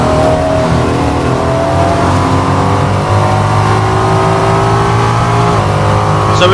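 A Ferrari 296 GT3 race car is driven hard on a track, its engine droning loud and steady from inside the cockpit with rising tonal revs throughout.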